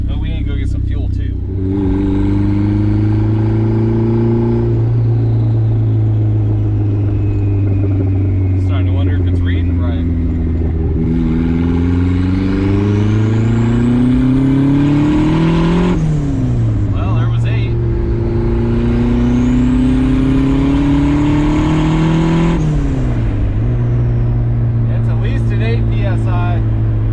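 A turbocharged Mazda Miata fitted with an eBay Mamba wastegate spring accelerates hard through several gears, its engine note climbing and dropping at each shift. A turbo whistle sweeps high above it, and voices talk intermittently inside the car.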